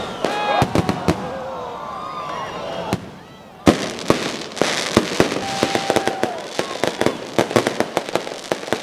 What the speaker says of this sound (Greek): ακολούθησε υπερθέαμα πυροτεχνημάτων και βεγγαλικών με τον ουρανό να γεμίζει φως.